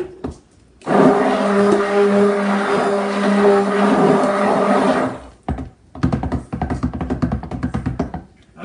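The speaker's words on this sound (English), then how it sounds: "I like the hand blender." A hand blender whirs loudly for about four seconds mixing cold process soap batter, then cuts off, followed by a brief rapid clattering and scraping.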